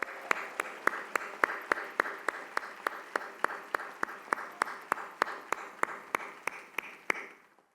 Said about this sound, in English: I promised her we'd give her a big St. Louis round of applause for Pam Grier in her absence